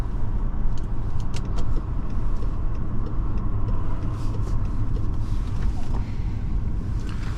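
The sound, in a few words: 2010 BMW 535i xDrive car driving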